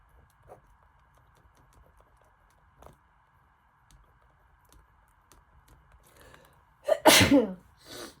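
One loud, close human sneeze bursts out near the end after a quiet stretch broken by a few faint taps and rustles.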